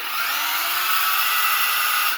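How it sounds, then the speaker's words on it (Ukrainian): A cordless battery-powered saw runs with a steady, bright motor whine that stays loud and even throughout, with no voices heard. "Просто взяв пилку, бензину не треба нічого нажав."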